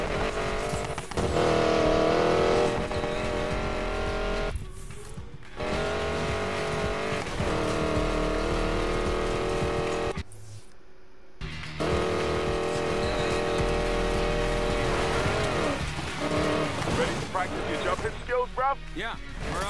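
Hypercar racing in Need for Speed Payback, a loud sustained engine roar rising and shifting through gears with brief drops, mixed with music and occasional voices.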